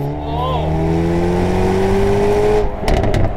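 A Hyundai Veloster N exhaust pulls in second gear with a loud, close, steadily rising drone, then cuts into a brief crackling burble at the end.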